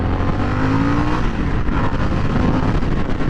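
A 2023 Harley-Davidson Sportster S engine roars steadily close by during a test ride, a dense continuous drone with slight pitch changes and no voices.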